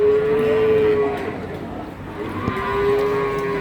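A cow or young calf lows at a busy cattle market, a long steady moo near and fairly loud, then a second moo, over a constant murmur of crowd and livestock.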